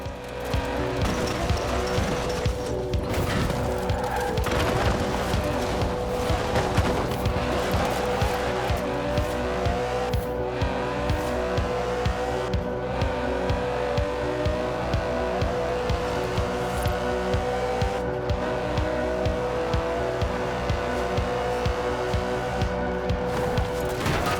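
An Aston Martin DB11 with a 5.2-litre twin-turbo V12 roars continuously in Forza Horizon 4, loud and close, its engine note rising and shifting as tires squeal and skid over the drive.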